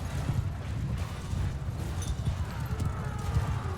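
Rapid, rhythmic hoofbeats of a galloping horse in Mount & Blade II: Bannerlord thud continuously at moderate volume against a dense, rumbling battle background.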